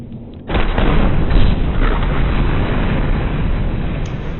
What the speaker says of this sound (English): You can see that there's quite a lot of dissipation and sparks and different things happening within that explosion.